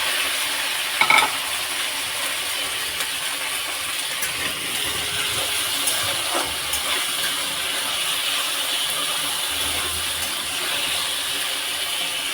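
Pumpkin and potato pieces fry in a pan with a steady, even sizzle throughout, a brief clatter near the start, and no talking.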